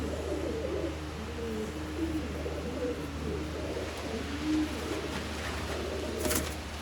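Dab wala pigeons cooing softly and repeatedly at close range over a steady low background hum.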